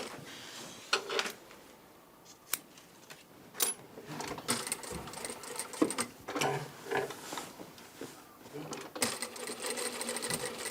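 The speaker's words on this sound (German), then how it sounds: "Ich nähe jetzt hier Bänder auf, die mir gleich für meine Miederstäbe dienen" A sewing machine stitches ribbons onto a dirndl in close, stop-start bursts of rapid whirring and ticking, separated by short pauses and light handling noises.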